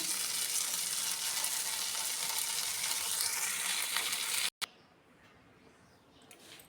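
Brinjal fry sizzles steadily and loudly in a pan while being stirred, then cuts out abruptly and returns as a much quieter, thinner crackle.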